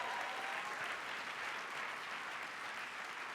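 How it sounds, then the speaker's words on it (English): An audience at a live comedy show in Hollywood claps steadily, a dense, even wash of applause that holds at a constant level throughout with no talk over it. "Give her a clap."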